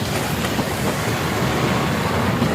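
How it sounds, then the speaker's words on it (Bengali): A train rumbles past close by, a steady loud roar of wheels and carriages filling the whole moment. "হ্যাঁ, এই ট্রেন চলে যাচ্ছে।"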